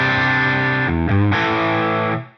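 Electric guitar through an AmpliTube 5 Friedman Pink Taco amp with effects off, a loud sustained distorted chord ringing, shifting briefly to another chord and back before fading out, alone without talk.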